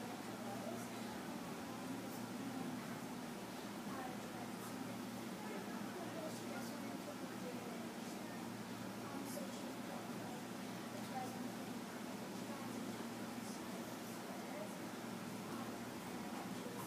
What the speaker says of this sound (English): Anya, nice and loud over the air conditioner.